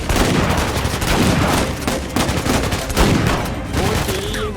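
Rapid machine gun fire in the video game Uncharted 4: A Thief's End, loud, dense bursts of shots rattling continuously for several seconds, with a voice audible faintly beneath.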